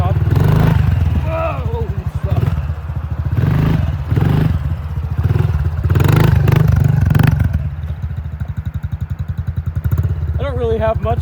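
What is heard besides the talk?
motorbike engine revving during a wheelie and hill climb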